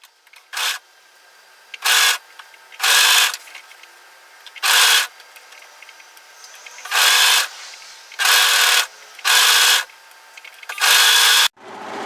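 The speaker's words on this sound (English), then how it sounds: "just overlock that sleeve together" Overlocker stitching a sleeve seam on a relaxed pullover hoodie, heard as eight short whirring bursts of varying length separated by near silence, close and fairly loud, with no talking.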